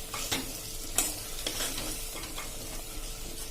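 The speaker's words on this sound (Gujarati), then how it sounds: "આમાં આપણે 1 ટેબલ સ્પૂન જેવો ગરમ મસાલો નાખશું અને એને પણ આપણે સરસ મસાલામાં મિક્સ કરી લેશું" Spoonful of garam masala being stirred into frying spices in a pan for a Kathiyawadi cluster-bean curry, a soft steady sizzle with a few scraping stirs of the spoon, close and quiet.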